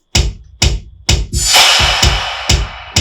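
A short electronic drum fill of punchy kick hits layered with sharp claps, one swelling into a bigger, noisier clap; the hits come close and loud in a quick, uneven pattern, with no voices.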